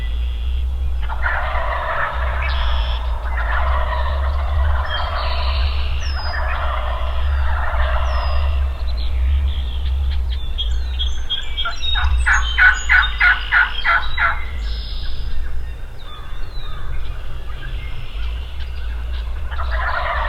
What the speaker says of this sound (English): They started gobbling like crazy.